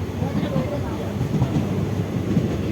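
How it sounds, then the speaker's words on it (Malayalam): A steady, loud rumble of a moving train heard from inside a passenger compartment, with continuous rolling noise and no distinct breaks. "ട്രെയിനിലാണ് പോകുന്നത്"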